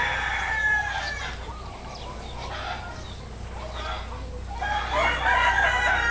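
Chickens cluck at a simple poultry farm in San Isidro while a rooster crows, bird calls rising and falling over a steady low background hum.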